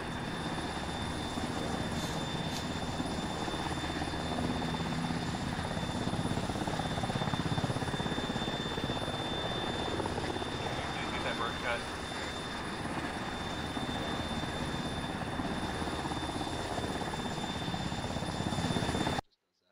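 Helicopter engines spool up in a video game, making a loud, continuous turbine whine and rotor roar that holds steady for nearly twenty seconds, then cuts off abruptly.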